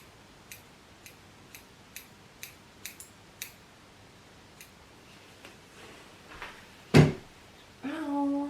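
Scissors snip through hair in a home trim, about a dozen short crisp cuts spaced roughly half a second apart, close and fairly quiet, followed by a louder clack and a brief rustle.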